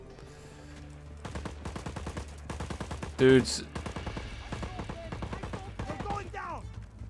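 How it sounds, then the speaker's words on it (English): Gunfire in the video game Just Cause 4 crackles in rapid bursts of sharp shots, mixed with game sounds and a loud blast near the middle, while someone talks over it. "I'm hearing gunshots"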